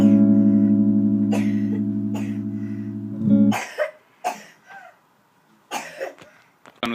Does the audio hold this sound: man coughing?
yes